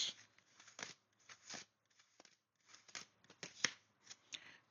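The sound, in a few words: cutting and shuffling a tarot card deck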